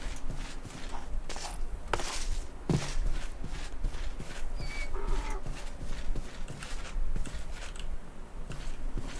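A horse moves about in a Steel Age survival game, with irregular hoof clops and footsteps over a continuous rustling ambient bed, moderately near, with no talk.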